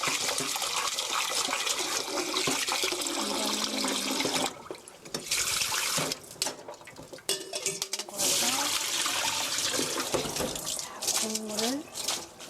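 Water runs steadily from a tap with splashing and handling sounds as noodles are rubbed and rinsed, with brief pauses in the flow.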